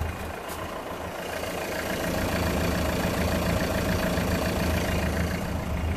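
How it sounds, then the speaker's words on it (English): A Renault Modus 1.5 dCi diesel engine idles steadily at close range, a continuous low, slightly knocking drone that grows a little louder after the first two seconds. "as you can see in there, engine is running"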